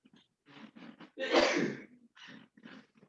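A single loud sneeze bursts out during a school board meeting, framed by quieter breathy sounds and soft vocal noises before and after.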